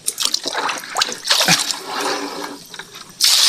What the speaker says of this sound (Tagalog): Linagyan na natin ng tubig to una.